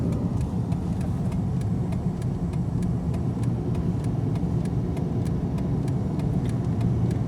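A 1995 Oldsmobile's 3800 V6 engine idles smoothly and steadily after a timing chain service, a low continuous rumble with faint regular ticking, close and unchanging throughout.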